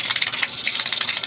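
Water streams out through an exit outlet at an old pig pen, a brief close splashing gush with bubbly, trickling texture and no voices.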